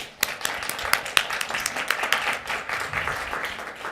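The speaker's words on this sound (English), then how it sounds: "Everybody, please give Jim a great round of applause." An audience at a hospital lunch-and-learn session gives a round of applause, a moderately loud patter of distinct individual claps from a modest crowd, close and uneven in rhythm.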